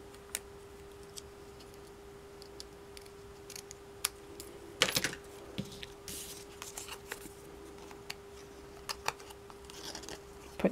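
Scissors cut paper for a Santa-themed art-punch craft, giving a few quiet, scattered snips and clicks over a faint steady hum, with no talk.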